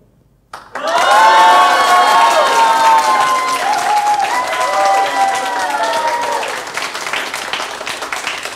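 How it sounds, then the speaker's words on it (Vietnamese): Audience at a lively comedy stage show bursts into sustained applause with cheering and whoops, loud and close, swelling quickly and then slowly tapering off. "Thôi, vỗ tay vậy thôi không đau tay mọi người à?"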